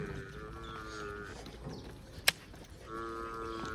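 Water buffaloes low in long, deep moos, two calls separated by a pause and a sharp click, fairly close in a quiet outdoor setting.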